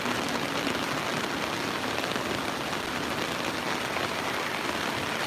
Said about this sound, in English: It's heavy rain right now, really heavy rain,